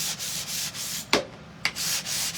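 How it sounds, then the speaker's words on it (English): Steady rhythmic sanding strokes rub across a painted wooden surface with raised grain, interrupted by a couple of sharp knocks or taps, close and fairly loud. "So I'm just going to give it a quick sanding"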